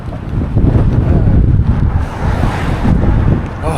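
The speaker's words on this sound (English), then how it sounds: "This wind is like blowing all the debris into my face." Strong wind buffets the microphone while cycling on a remote road in China, giving a loud, continuous rumbling roar that swells and eases without letup.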